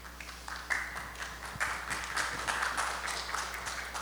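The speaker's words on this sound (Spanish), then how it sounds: "a quien brindamos fuertes palmas" Audience applause for a doctor, an emergency physician at the Hospital Regional de Loreto and university lecturer, at a presentation event; steady, moderately loud clapping from a crowd continues throughout without a break.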